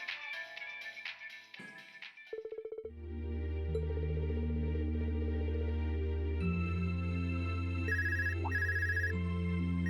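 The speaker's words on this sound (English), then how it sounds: "Oh, Reen has a phone call." A phone rings in the video game Trails of Cold Steel 2 as a steady electronic ringtone with repeating high beeps over sustained game music, preceded by a few brief musical stabs.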